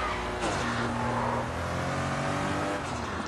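Car driven in the video game Sleeping Dogs: a steady engine roar with shifting revs and brief tire noise, loud and continuous, with no talk.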